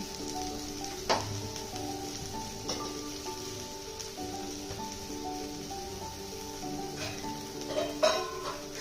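Sliced okra with garlic fries in a pan on the stove, a steady crackling sizzle throughout with a few soft clinks of a utensil against the pan.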